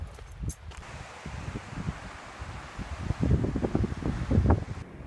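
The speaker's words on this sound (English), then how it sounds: "At least there's a wind today." Wind gusting across an exposed, hot sagebrush hiking trail in Yellowstone, buffeting the microphone with low rumbling bursts that grow stronger toward the end, no voices.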